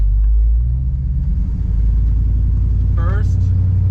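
A 1969 Plymouth Fury III engaged in drive and rolling slowly, its engine giving a steady, loud low rumble from inside the cabin, with a brief squeak near the end.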